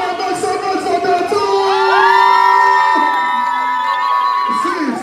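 Party crowd at a birthday celebration cheers, whoops and shouts loudly and continuously, with voices swelling into sustained yells and screams that peak in the middle before easing slightly.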